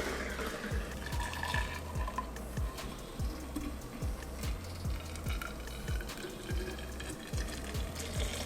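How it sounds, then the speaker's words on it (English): Homemade milk pours from a container back into a blender, a soft continuous liquid trickle with faint splashing, close and quiet, with no voices. "And then I pour it back into the blender because I don't have a funnel."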